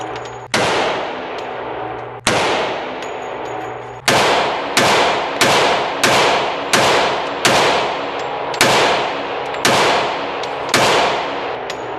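About ten sharp, loud unsuppressed shots from an FNX 45 Tactical pistol at a shooting range, fired one at a time with uneven gaps and each blast ringing out briefly.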